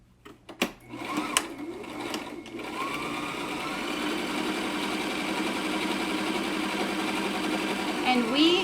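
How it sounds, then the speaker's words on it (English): Sewing machine running steadily as it stitches a seam on a homemade cloth medical mask with a filter pocket, a continuous mechanical whir after a few clicks and handling sounds at the start. "we just want to sew this seam on the other side."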